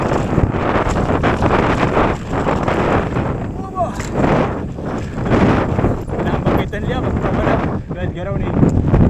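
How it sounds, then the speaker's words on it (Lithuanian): Strong cold wind buffets the microphone during an outdoor ride, producing loud, gusting rumbles and roaring bursts that rise and fall throughout, with voices briefly heard under it. "Vėjas negailestingas, pučia į ranką ir verčia drebėti šalčio."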